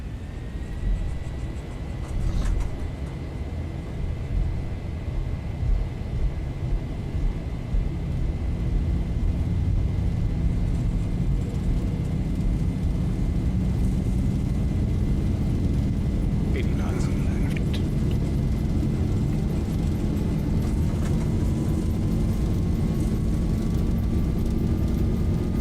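Boeing 737 engines spool up to takeoff thrust in a flight simulator, a steady broadband roar with a sustained whine, rising slightly in pitch over the takeoff roll, loud and continuous throughout.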